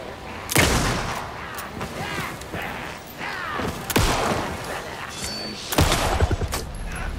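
Several loud gunshots ring out in Alan Wake II combat, sharp blasts at irregular intervals over a noisy game backdrop, with a voice speaking briefly among them.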